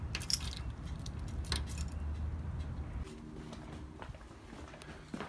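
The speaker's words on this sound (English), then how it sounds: "And more keys than a janitor." Large bunch of keys jangling up close, a busy metallic clinking that thins into a few lighter rattles toward the end, with quiet background noise and no talk.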